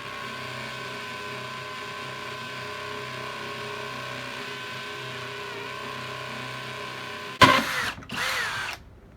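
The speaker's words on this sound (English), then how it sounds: "Pretty quick for the hammer drill." A Kobalt 24V XTR cordless hammer drill runs steadily for about seven seconds with a harmonic whine, then bursts loudly through the material in a couple of harsh, broadband surges.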